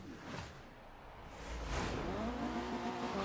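Engine noise from a Tamo Racemo mid-engine sports car driven in a racing video game, a steady drone that swells into a louder rising note partway through, with a faint squeal near the end.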